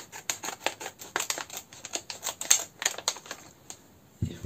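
Scissors snip through a plastic bag holding a magazine's paint-bag freebie, giving a quick run of close, crisp clicking and crinkling cuts with a low thump at the very end.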